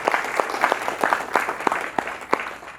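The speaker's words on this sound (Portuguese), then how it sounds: "Vamos recebê-lo com uma salva de palmas." Audience applause welcoming a performer onto the stage at a festival pocket show, a moderately loud, uneven clapping with a few sharp, distinct claps standing out, no talking heard.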